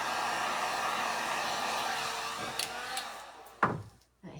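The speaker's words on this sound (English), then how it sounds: "I'm just using a heat gun to dry this some, so it's kind of quick." A heat gun blows a steady, broad hiss while drying paint on a Mylar stencil, then cuts off near the end with a few faint clicks and knocks.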